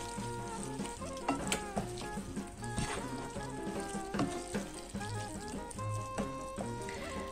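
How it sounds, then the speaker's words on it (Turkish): A cooked filling with parsley is stirred in a pan just after the heat is switched off, giving a steady soft sizzle with scraping stirs throughout, under background music. "Ocağı kapattıktan sonra şöyle karıştıralım."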